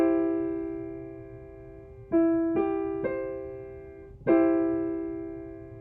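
A major triad in first inversion is rolled note by note: a held tone, then three more pitches enter one after another. A final strike restates the chord, and it rings out and slowly decays, clear and alone.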